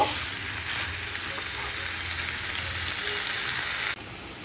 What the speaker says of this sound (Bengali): এটাও আমি 5 মিনিট ধরে লো ফ্লেমে ভালো করে কষিয়ে নেব।